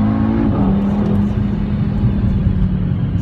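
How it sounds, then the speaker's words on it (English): 2015 Audi RS3 engine revving on country lanes, a loud, steady exhaust drone with a brief pitch drop early on, close and continuous with no talking. "you get that crackle and pop from the exhaust system"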